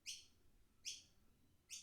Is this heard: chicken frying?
no